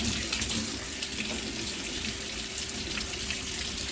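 Cured eggs are rinsed under a running tap, which gives a steady, close rush of flowing and splashing water through all four seconds with no voices.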